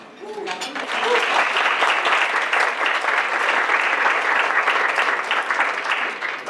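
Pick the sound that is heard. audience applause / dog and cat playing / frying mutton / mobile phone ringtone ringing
audience applause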